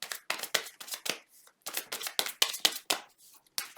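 Tarot cards shuffled by hand in quick riffling bursts, each a short crisp rustle with brief pauses between, close and fairly soft.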